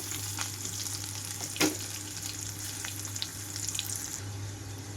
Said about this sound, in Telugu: రెండు నిమిషాల పాటు ఉల్లిపాయలు కూడా వేయించుకుంటున్నాను